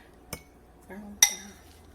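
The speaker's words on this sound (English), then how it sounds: "Spoon on this topping." Spoon clinking against a dish while crumble topping goes onto a blueberry crisp: two sharp metallic clinks, close and distinct, with a soft scrape between them in an otherwise quiet kitchen.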